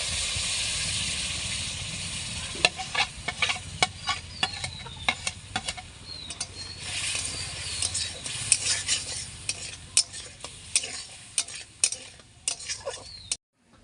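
Mango pulp cooks in a kadai while being stirred, a steady hissing simmer broken by frequent sharp scraping and tapping of the spoon against the pan, close and loud, with no talk.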